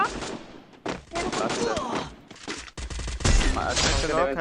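Rapid bursts of gunfire ring out in a shooting video game, loud and clustered in quick volleys with short gaps, while a player's voice talks intermittently over the action.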